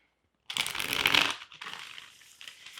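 Tarot cards are shuffled up close: a dense riffling burst lasting about a second, a short pause, then a softer, longer shuffle in a quiet room.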